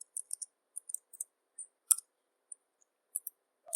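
Scattered light clicks of a computer keyboard as a command is typed, short irregular taps with quiet gaps between them, close and alone.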